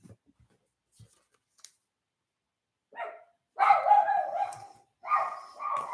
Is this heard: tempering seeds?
no